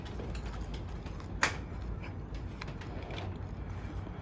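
A single sharp click as the lid locks onto a Waring commercial food processor, standing out briefly over a steady background hum with no talking.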